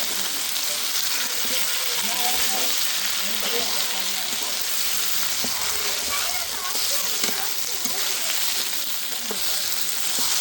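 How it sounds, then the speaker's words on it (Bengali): Greens being tempered in hot oil at home, a steady broadband sizzle and crackle of frying with scattered faint clicks, close and continuous throughout, no speech. "এখন আমার বড় মা শাকটা বাগার দিয়ে নেবে"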